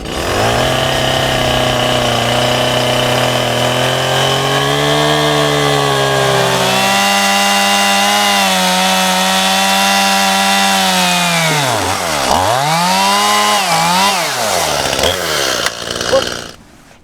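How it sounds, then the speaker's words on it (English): A chainsaw engine roars steadily, its pitch rising and dipping as the blade bites into a fallen tree log, loud and close throughout. "Chainsaw to cut the log just to speed up the process"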